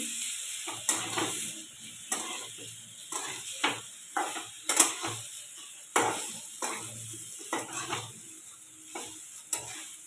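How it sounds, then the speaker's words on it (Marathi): A spoon stirs masala into stuffed bitter gourds in a pan, with repeated scraping strokes over a soft, steady sizzle. The strokes are close and uneven, and nobody speaks. "आता चमच्याने त्याला छान एकत्र करू"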